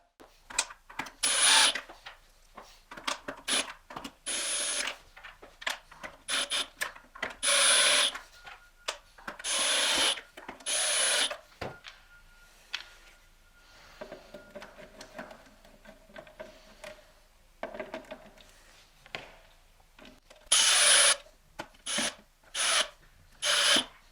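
Screws being driven back into a Prolux garage vacuum housing, heard as repeated close, scratchy bursts of rubbing and ratcheting from a screwdriver, separated by short quiet pauses, with no talking.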